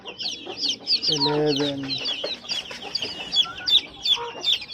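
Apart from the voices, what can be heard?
chickens clucking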